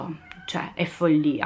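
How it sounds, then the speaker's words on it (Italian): A female kitten meows repeatedly from outside a door, trying to get in; the cries are close and loud, rising and falling, while someone talks over them. "Se sentite miagolare"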